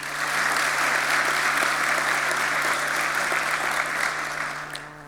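A debate audience in a hall bursts into sustained applause, a thick, even roar of many hands clapping that holds steady throughout and begins to fade only at the very end, with no talk over it.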